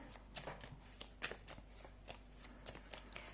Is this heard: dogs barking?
no